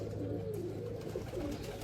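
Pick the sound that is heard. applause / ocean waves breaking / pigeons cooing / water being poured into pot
pigeons cooing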